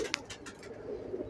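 Badal, also called Khatang, breed pigeons coo softly in a loft, low murmuring calls with a few short brighter bursts early on, fairly faint and close.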